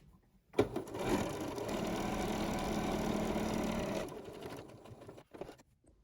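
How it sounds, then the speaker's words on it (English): A sewing machine stitches along the top edge of a fabric face mask, running in one steady, close whir for about three seconds after a click at the start, then a few handling knocks. "You want to sew maybe 1/8 or 1/4 of an inch from the top here."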